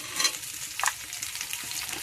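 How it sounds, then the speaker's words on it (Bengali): Tomato and capsicum paste fries in hot oil, a soft steady sizzle with a couple of louder spatters and a scrape of stirring, close and without talk. "একেবারে তেলের সাথে ভেজে নেবো"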